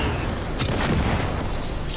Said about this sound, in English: that's a really big cannon